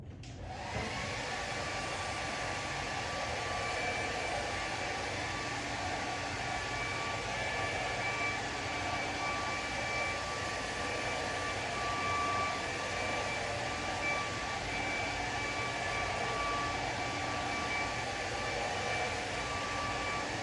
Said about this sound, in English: I'm gonna go sand, especially the inside thing